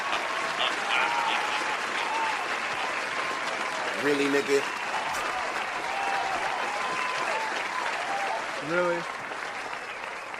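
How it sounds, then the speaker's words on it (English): Sustained crowd applause of many hand claps, an evenly dense clatter that runs throughout, with a voice speaking over it. "Let's give Nancy Pelosi a hand clap."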